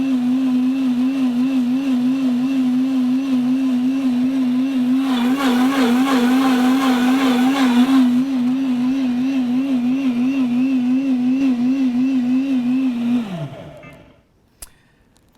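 A Kuvings CB1000 commercial blender runs with a steady, loud motor whine that wobbles slightly, louder and harsher midway as the sound cover changes, then winds down to a stop with a faint click after.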